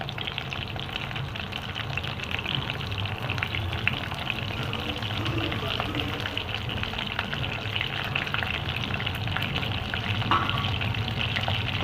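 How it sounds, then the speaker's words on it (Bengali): Pointed gourd (potol) pieces fry in oil, making a continuous dense crackling sizzle at close range, steady from start to finish with no voices. "এবারে এই পটলগুলোকে একটু লাল করে ভেজে নিই।"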